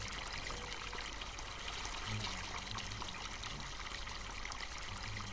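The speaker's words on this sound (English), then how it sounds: "Got a fountain there and a fountain over here." A water fountain in the Farming Simulator 19 video game, set on a Tyrolean Alps map, makes a steady, faint rush of pouring and trickling water that runs unchanged through the whole stretch, with no speech.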